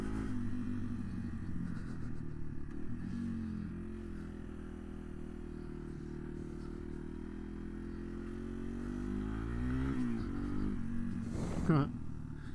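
A 2025 Yamaha TW200 motorcycle being ridden, giving a steady low engine rumble with wind noise that swells as the engine revs up near the end.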